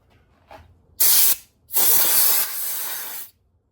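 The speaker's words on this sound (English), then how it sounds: "Do the same to the gasket, just spray it off, remove any moisture" A short hiss of spray, then a longer sustained blast from an aerosol can cleaning a snowblower carburetor's fuel bowl gasket, loud and close, followed by quiet.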